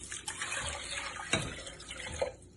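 Water splashes and gurgles as it is poured into a pot of rice, a short close-up liquid sound with a couple of small sloshes.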